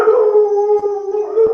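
A labrador gives a sustained, loud, tonal howl-like vocalisation close by, holding a steady pitch for over a second with slight wavering and brief breaks, with no talking over it.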